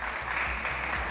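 A TV studio audience on an afternoon show applauds a guest, a brief, fairly quiet wash of clapping that holds evenly for about a second with no voices over it.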